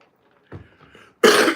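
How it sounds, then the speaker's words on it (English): A couple of soft throat-clearing coughs followed by one loud, harsh cough close up. "I feel like coughing."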